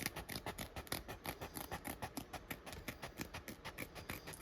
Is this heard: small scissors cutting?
yes